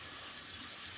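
Tap water runs steadily into a sink while basmati rice is washed, a continuous close hiss of flowing water with no talking.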